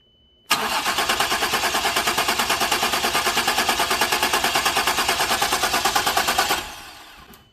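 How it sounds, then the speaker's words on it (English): A 2011 Ford Explorer engine cranking over with a new powertrain installed, a loud rapid rhythmic chugging of the starter that runs steadily for about six seconds without catching, then cuts off, close by and alone. "I think we got it cranked enough"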